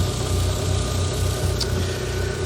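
A Rover Coupe with a CVT gearbox warms up, its engine idling steadily with a low, even hum and vibration, close and continuous throughout with no talking.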